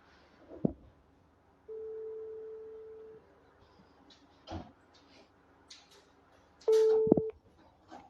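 A telephone call is placed: short electronic dialing beeps, then a long steady tone, quiet pauses and clicks, and a final burst of beeps with another tone, all close and clear in a quiet room.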